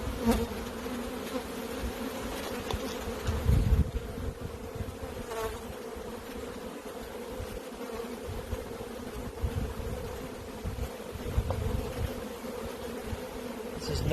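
Honey bees swarm around an open hive during brood frame removal in Michigan, a dense steady buzzing drone that fills the whole stretch, with a few louder passes of nearby bees and no voices.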